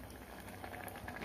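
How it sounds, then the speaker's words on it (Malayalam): Tamarind water boiling in a curry pot for a Kerala-style curry, a soft continuous bubbling and simmering heard close but faint, with no talk over it. "പുളി തിളച്ചു കഴിഞ്ഞ്"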